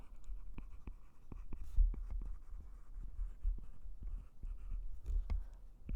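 A pen or pencil writes out a fraction division problem, producing a steady run of soft scratching strokes with sharp taps, close and quiet, with no talking.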